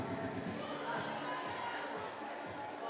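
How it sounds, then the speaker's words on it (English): At the USA Climbing National Team Trials boulder semi-finals, a crowd shouts encouragement as a steady, dense roar of mixed voices that holds for the whole stretch without pause. "and a lot of come on Bobs in the crowd"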